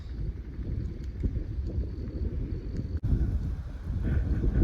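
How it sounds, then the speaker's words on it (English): Wind gusting across an outdoor garden bed being prepped in fall, a low continuous buffeting rumble against the microphone that holds steady, briefly cuts out, then swells louder near the end, with no voices. "Kind of a challenge in the wind"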